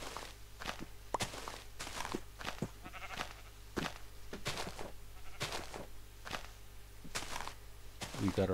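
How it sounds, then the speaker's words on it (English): Repeated footsteps crunch along steadily in Minecraft, with a few sheep bleats mixed in near the end. "we also know that sheep are close by"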